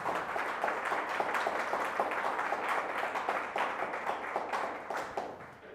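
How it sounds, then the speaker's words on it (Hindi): A church congregation claps loudly in a steady rhythmic beat during a Hindi-language worship service, the massed claps filling the room continuously with no talk over them. "आइए जोरदार ताली से उस खुदाबंद यीशु मसीह को धन्यवाद करें, ऊंची आवाज में जोरदार ताली से।"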